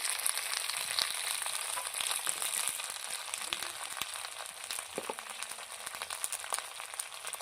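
Green chilies frying in a pan give a steady, bright sizzle that holds level throughout, close and fairly loud, with a few faint clinks and no talking.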